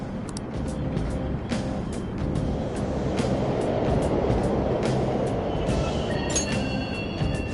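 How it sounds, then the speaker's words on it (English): Subway trains rumble steadily through an underground station in the video game Persona 5 Royal, a dense, continuous low roar that swells slightly midway, with faint clicks and a thin high whine near the end. "The trains are totally running!"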